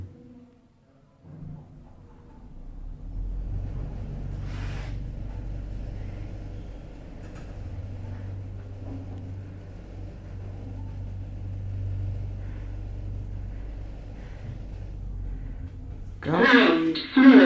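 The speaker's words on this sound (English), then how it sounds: "Lift going down." A lift descending inside a Marks and Spencer's store, giving a steady low motor rumble and hum that runs for most of the ride, with a brief click partway through and a louder clunk or chime near the end as it stops.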